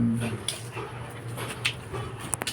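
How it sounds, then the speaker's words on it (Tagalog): A thin dog whimpers in a home garden with soft, intermittent cries over steady background noise, while a person's voice murmurs nearby. "Payat na aso."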